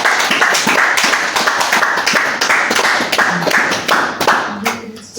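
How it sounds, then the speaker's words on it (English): A church congregation applauds after a Sunday testimony, a dense, steady round of many hands clapping close by that carries on for the whole stretch, with scattered voices mixed in. "Let's give another round of applause."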